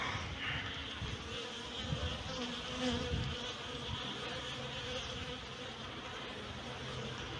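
Honeybees hum around a hive during late-winter feeding, a dense, continuous buzzing drone from many insects, close and steady throughout.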